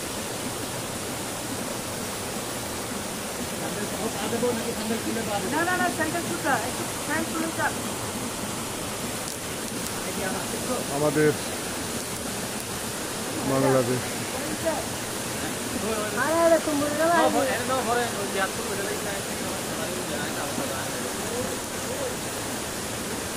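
Poamuhuri waterfall at Alikadam, Bandarban, Bangladesh, pours in a steady, full rushing roar that runs without a break, with people talking close by over the falling water.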